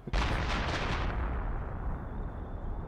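Artillery fire in the video game Company of Heroes, a sudden heavy barrage of booming blasts rolling together for about a second, then a long rumbling decay fading under steady battlefield noise.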